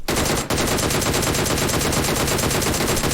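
Rapid automatic gunfire in the video game PUBG Mobile, dense loud bursts of shots in quick succession filling the whole stretch, with a brief gap near the start.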